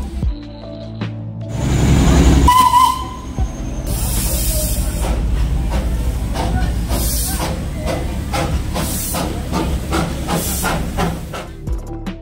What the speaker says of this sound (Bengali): জয় রাইডের একটা স্টিম ট্রেন ছাড়ছে, এটা দেখুন আপনাদের দেখাচ্ছি